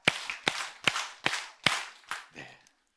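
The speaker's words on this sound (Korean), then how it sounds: "박수 5번 시작." An audience at a Bible lecture claps in unison six times in a steady, evenly spaced rhythm, sharp and fairly close, with the last clap softer and ragged before silence.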